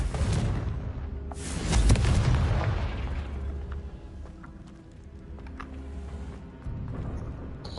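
A Confringo blasting spell detonating in a Harry Potter video game, a deep booming explosion swelling near the start and rumbling away, followed by scattered crackles and small pops.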